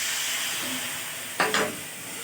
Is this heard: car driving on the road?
no